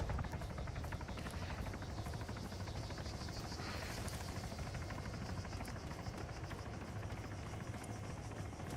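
Military helicopter in the video game Arma 3, a loud, steady rotor thump with a continuous engine buzz throughout, close and unbroken, with no talk.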